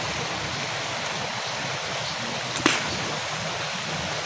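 River water flowing in a steady, loud broadband rush that stays constant throughout, with one brief faint click partway through and no voices.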